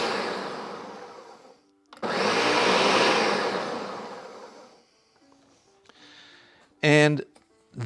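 A blender pulsing soft cooked tomato soup, a few seconds of loud whirring motor roar between short bursts, with someone talking before and after it.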